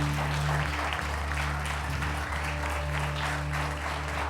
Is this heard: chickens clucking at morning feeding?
no